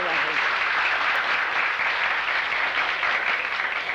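A talk-show studio audience bursts into applause, a dense, steady wash of clapping that stays loud and even throughout without letting up.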